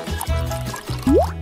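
Cooking oil poured from a freshly opened bottle into a pan for frozen fries, a short liquid glug and trickle with a rising filling tone near the end, close and clear, no talk over it.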